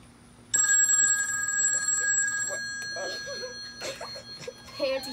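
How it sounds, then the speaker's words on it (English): An old-fashioned telephone bell rings loudly for about two seconds, then stops, and voices follow as people begin talking. "It's supposed to be one of those old-timey phones."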